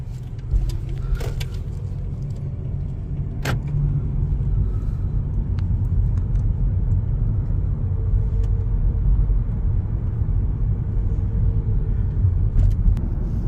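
A car drives away from home on an autumn morning, its low engine and road rumble steady and close for the whole stretch, with a brief jingle of keys near the start and no talk.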